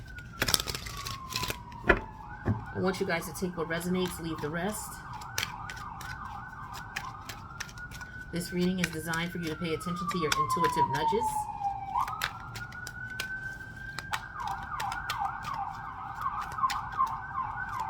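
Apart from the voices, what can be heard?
emergency vehicle sirens passing outside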